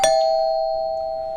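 A single sustained doorbell tone rings out clearly at a steady level, with a faint chime overtone, then cuts off abruptly at the end.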